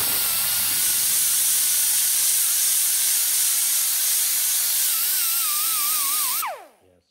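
An 80 grit disc grinds body filler off a car body, producing a steady loud hiss with a wavering whine that holds for several seconds before cutting off abruptly near the end.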